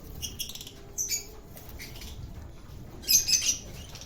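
Young birds leaving the nest on their first flights, with light fluttering and a few faint high chirps in two short bursts over a soft outdoor background.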